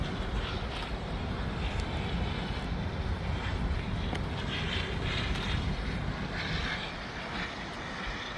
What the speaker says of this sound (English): you can see there's a plane coming into land right now